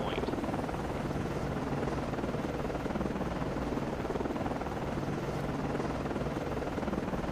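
A helicopter launching from a warship in the Cold Waters naval game, a steady loud rotor and engine drone filling the whole clip, with no breaks or talk.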